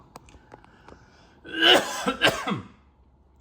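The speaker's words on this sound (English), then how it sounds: "Apologize for my coughing." A man coughs a few times in a short, rough cluster, close and fairly loud, against a quiet background.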